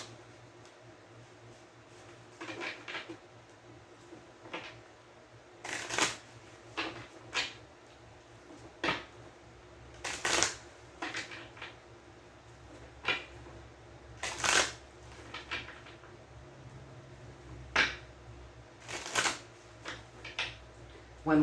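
Tarot cards being shuffled by hand in soft, short riffling bursts repeated at irregular intervals, quiet and close, with occasional faint talk.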